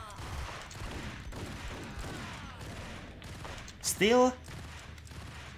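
Enemy gunfire in the video game Max Payne, as a steady run of rapid shots under a player talking, with a short, sharp, louder burst of sound near the end.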